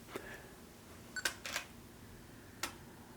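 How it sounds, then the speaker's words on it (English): Four crisp shutter clicks from a Nikon D810 DSLR sound close by in a quiet room: a single click, a quick pair, then one more after a pause. "You press the button once, the shutter release button once, the screen goes blank, you press it again."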